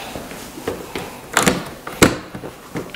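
A patio door on a new-construction model home is unlocked and opened, giving a run of close, sharp clicks and clunks from the latch and frame with brief gaps between them.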